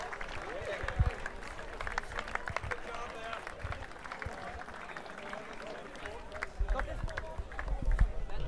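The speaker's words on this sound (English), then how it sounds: "Vos applaudissements pour ces athlètes" An outdoor audience applauds rowing athletes at the final of the 13th World University Rowing Championship in Gravelines, a steady, moderately distant patter of clapping and crowd noise with an announcer talking over it throughout.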